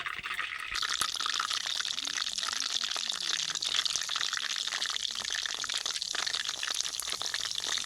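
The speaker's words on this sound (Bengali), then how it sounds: "আমি এখানে যে তিনটা বাঁধাকপি বাকি রয়েছে সেগুলো তেলের মধ্যে দিয়ে দেবো" Cabbage pieces deep-frying in hot oil give a steady, dense sizzle and bubbling hiss that runs throughout, with faint clinks and a brief low voice murmur underneath.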